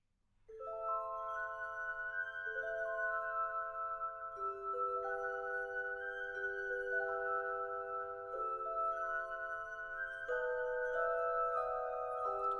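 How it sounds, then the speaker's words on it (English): A professional glass spinner plays music on glass for an in-game concert: sustained, ringing, pure tones overlap in a slow melody, steady and fairly soft, with no talking. "We've got a professional glass spinner."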